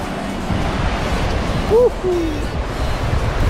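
Steady broadband rush of sea waves washing onto a sandy Aegean beach at Kuşadası, continuous and fairly loud with wind buffeting the microphone, and a brief faint tonal chirp partway through.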